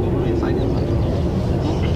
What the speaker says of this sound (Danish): Her kommer det første F-16 fra højre.